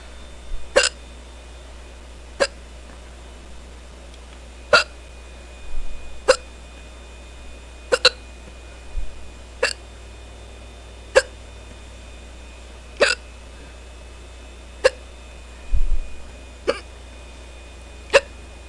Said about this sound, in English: Oh, these hiccups are pretty fast.